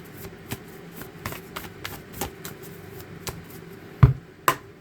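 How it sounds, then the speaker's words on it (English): A tarot card deck being shuffled by hand, giving a series of soft, irregular riffles and taps, with two sharper, louder knocks near the end; no one speaks. "get a good shuffle here"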